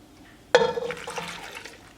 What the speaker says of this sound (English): I'll pour that in.